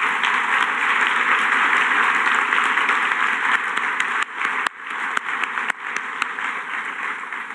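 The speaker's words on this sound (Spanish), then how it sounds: "Un fuerte aplauso." Loud, continuous applause fills the hall at the inauguration of a book fair, a dense wash of clapping with a few sharper individual claps standing out near the end.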